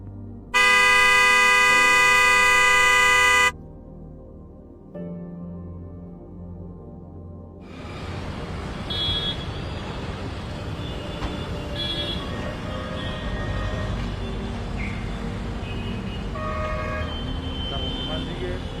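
A loud, sustained vehicle horn blast opens, then gives way to a busy Jaipur street roar with voices and scattered traffic noise.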